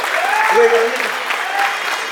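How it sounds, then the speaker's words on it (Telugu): Audience applause at a photographers' association launch event, a steady burst of clapping from a crowd filling the whole moment, with faint voices and a brief tone mixed in. "గట్టిగా చప్పట్లతో ముందే అడ్వాన్స్ విషెస్."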